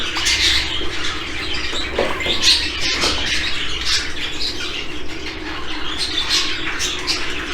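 Show jumbo budgerigars in a breeding cage with their chicks keep up a dense, continuous chatter of chirps and squawks, close and fairly loud, with occasional wing flutters.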